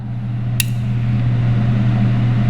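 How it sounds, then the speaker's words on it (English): A Beretta PX4 Storm 9mm compact's decocking safety drops the hammer with one sharp, close metallic click over a steady low hum, with no talking. "if you engage the decocking safety, as you can see, it releases the hammer"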